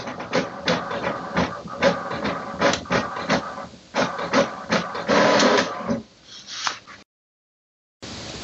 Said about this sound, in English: let's print an information page from the printer